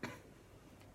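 A single short cough from someone with a lingering cold, close to the microphone, right at the start, followed by a quiet room tone.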